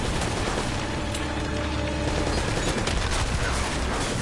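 Dense gunfire rattles nonstop through a shooting sequence in the Uncharted video game, loud bursts of automatic fire layered with booms and mechanical clatter, with no speech over it.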